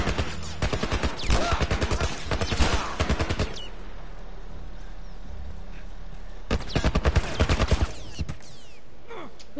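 Bursts of rapid gunfire aimed at the player in The Last of Us, with a dense volley at the start, then a quieter lull of shuffling and creaks before another sharp burst of shots near the end.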